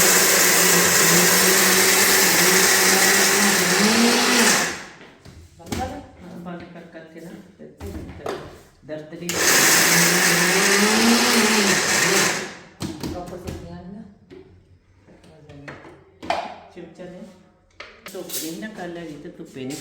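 Ingredients being ground in a blender for pinni sweets, two loud whirring bursts of several seconds each, with someone talking in the gaps between them.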